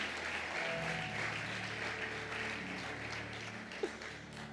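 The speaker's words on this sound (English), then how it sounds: "Clap hands for Jesus." Church congregation clapping hands for Jesus during a sermon, a steady dense wash of applause lasting throughout, with a brief louder clap near the end.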